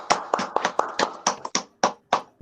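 A small group clapping at the close of an online volleyball meeting, heard as about ten separate, close handclaps in a loose rhythm with no crowd noise around them.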